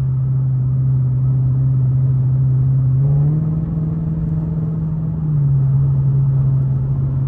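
Hemi car engine running rough while driving, a loud steady low drone from the cabin that rises briefly in pitch midway as the revs climb, then settles back, with no talk.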